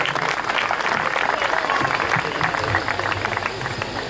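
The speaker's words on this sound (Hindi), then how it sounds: "जोरदार तालियां बजाइए जगदीश जी के लिए।" An auditorium audience at a Hindi poetry gathering breaks into loud, sustained applause, a dense, even wash of clapping from many hands that holds steady throughout.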